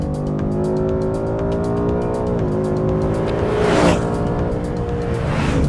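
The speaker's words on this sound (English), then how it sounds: "I love the sound of that engine." A sports car engine droning steadily under load, its pitch dipping then rising, with a passing whoosh near the end; close and loud.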